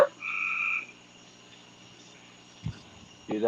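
Carolina frogs croak in a steady high trill near the start, then fade into a quiet night background with a couple of brief soft knocks.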